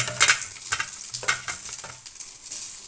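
Boiled, cut potatoes sizzle in a hot frying pan while a utensil stirs them in quick repeated scraping strokes, close and fairly loud, with no talking.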